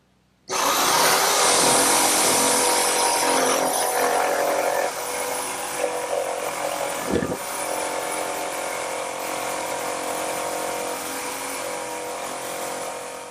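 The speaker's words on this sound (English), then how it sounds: "now I will use my electric jigsaw" An electric jigsaw cuts through wood while building a rocking horse in a woodworking shop, a loud continuous buzzing rasp that starts abruptly and runs steadily, easing slightly in intensity partway through.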